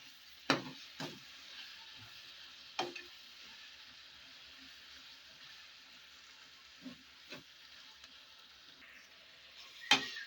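Vegetables are stirred with soy sauce in a hot frying pan, a steady soft sizzle running underneath while a few sharp scrapes and clinks of the spoon against the pan punctuate the quiet frying.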